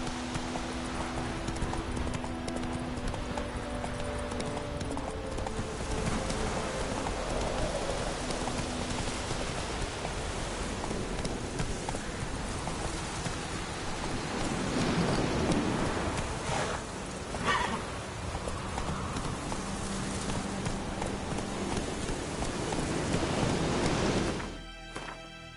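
Geralt's horse Roach galloping through rain in The Witcher 3, a steady drumming of hooves under a constant hiss of rainfall that stays loud throughout and cuts off near the end.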